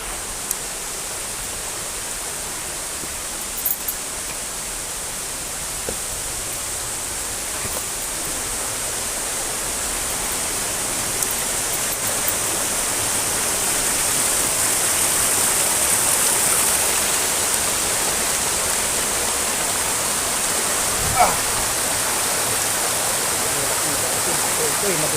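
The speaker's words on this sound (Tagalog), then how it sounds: "yan yung Dumalabdab Falls" Dumalabdab Falls waterfall roaring as a steady broadband rush of falling water, continuous and fairly loud throughout, growing slightly stronger toward the end with a few faint knocks and a brief voice.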